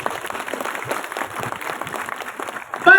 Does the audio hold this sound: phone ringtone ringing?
no